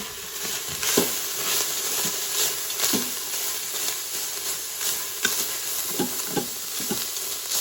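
Seasoned lean ground beef stirred in an Instant Pot, sizzling steadily while a utensil scrapes and taps the pot in irregular strokes, close and moderately loud.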